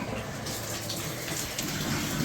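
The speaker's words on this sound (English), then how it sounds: "Now we're just going to put some water in the bath, but test everything, get all the air out of the system." Water gushes steadily from a tap into a newly installed bathtub, a constant broadband rushing and splashing with no pauses, heard up close and alone.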